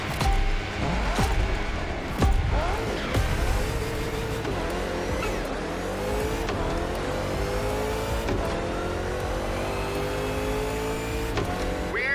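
A Shelby GT500 muscle car in the racing game The Crew Motorfest roars continuously, its engine revving up and down through repeated gear shifts with a loud, throaty, rising-and-falling pitch.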